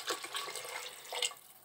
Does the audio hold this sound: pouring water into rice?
yes